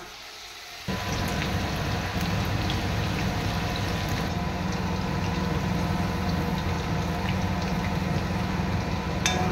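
Chicken pakora pieces dropped into hot oil, a steady bubbling sizzle that starts abruptly and holds at a constant level throughout, with no talking.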